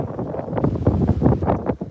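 Wind gusts across choppy saltwater by a pier in Bayside, Texas, a rough, buffeting rush that batters the microphone for a couple of seconds.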